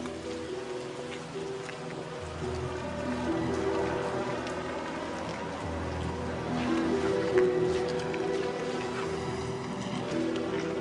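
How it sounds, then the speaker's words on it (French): Steady rain falls throughout with a constant hiss, while a low, tonal background of music or ambience sits underneath and swells slightly midway. "Il pleut."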